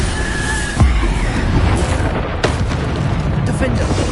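Bombarda spell blast in Hogwarts Legacy, a deep booming explosion amid continuous loud combat rumble, with another heavy impact a moment later in the game's battle soundscape.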